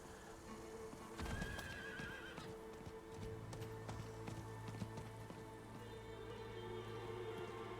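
A horse in the video game Diablo 4 whinnies briefly and then clip-clops along at a steady gait, the hoofbeats close and clear over soft background ambience.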